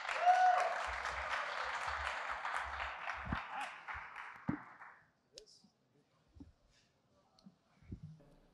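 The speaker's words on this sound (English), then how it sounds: "please join me in welcoming Lukas and giving him a big round of applause" A conference audience at Pragma Lisbon 2023 gives a dense, steady round of applause for a speaker. The clapping fades out after about five seconds, leaving near silence with a few small scattered noises.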